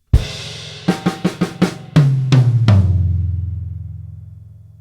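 A drum kit plays one bar: an opening hit, a quick run of accented strokes, then heavier tom notes moving round the kit, the last low tom ringing out and slowly fading.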